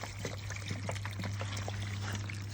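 Water poured into a hole dug in garden soil for a drainage test, a steady, continuous splashing pour close by, with faint trickling and small plops throughout and no talking.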